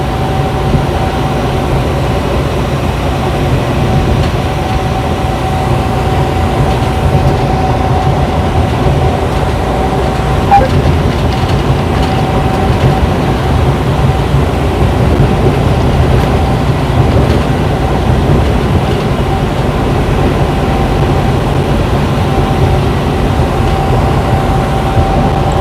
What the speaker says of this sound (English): Got a lot of trains in this area. Auto rack to intermodal.